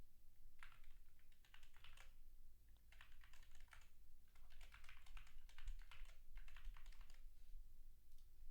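Someone typing a password on a computer keyboard: faint, quick clusters of key clicks arriving in four separate bursts with short pauses between, alone in a quiet room.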